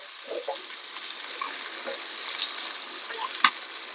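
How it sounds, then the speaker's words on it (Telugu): Chicken frying in a pan gives a steady, close sizzle throughout, with a few soft clinks and stirring sounds and a sharper knock near the end. "చికెన్ ఫ్రై అయితే రెడీ అవుతుంది."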